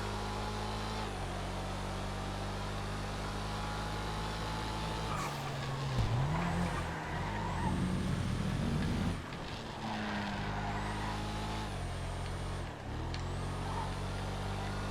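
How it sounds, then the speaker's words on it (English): A GT race car in the GTA FiveM game drones along with a steady engine tone, then breaks into squealing tyre skids and shifting revs, loud and continuous throughout. "I'm in a GT race car"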